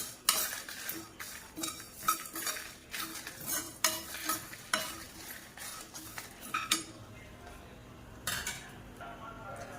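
Whole spices such as cinnamon, pepper, cumin and fennel are dry roasted in a pan. A spoon scrapes and clinks against the metal in frequent short strokes, with no voices and only a faint sizzle.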